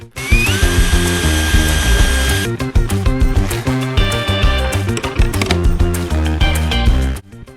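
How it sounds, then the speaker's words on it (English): A power drill bores a pilot hole in plywood, its motor whining loudly, then stopping and restarting in short, ratcheting bursts before cutting off. "Then I'm gonna get a nice little pilot hole drilled."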